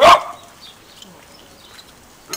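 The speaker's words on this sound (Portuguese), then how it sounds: "Ele tá latindo, sabe por quê, gente?" A dog barks at a bumblebee during a barbecue, one sharp, loud, close bark followed by near quiet, with another bark starting just at the end.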